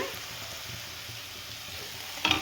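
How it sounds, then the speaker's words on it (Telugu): Boiled, peeled potatoes go into a frying pan of hot oil for a potato curry. A steady, quiet sizzle runs throughout, with a short, sharper burst of spitting near the end as the potatoes hit the oil. "పొటాటోస్ని వేసుకోవాలి"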